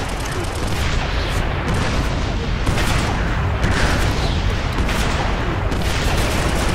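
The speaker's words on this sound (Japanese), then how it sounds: "こっちで銃撃を受けている。" Dense, continuous gunfire and booming explosions from the video game Operation Flashpoint: Red River, with rapid overlapping shots and blasts running steadily at high volume throughout.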